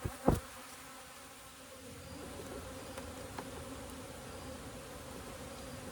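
Honey bees buzz steadily around a hive during winterizing, a continuous moderately faint insect drone with a brief louder knock near the start and no talk.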